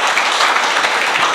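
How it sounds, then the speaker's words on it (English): Audience applause at a school inauguration ceremony, a dense, steady burst of many hands clapping together, loud and sustained throughout. "Give them a round of applause, friends."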